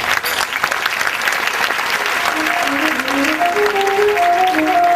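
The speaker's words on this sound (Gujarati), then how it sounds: "તાળી તો પાડો." An audience at a Pratishtha Mahotsav religious festival gathering bursts into loud, sustained applause that keeps a dense, even level from start to finish, with a faint tonal sound drifting through it.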